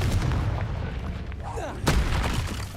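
A booming blast from the Confringo fire spell in the video game Hogwarts Legacy erupts amid dense game rumble and effects, with a player talking over it.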